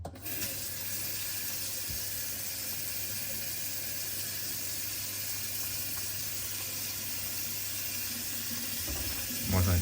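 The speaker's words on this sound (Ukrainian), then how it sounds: "беремо, наливаємо гарячу воду" Hot tap water runs and splashes steadily into a container of brass cartridge cases set out for washing, a continuous hissing pour lasting throughout, with a brief clunk near the end and no talk.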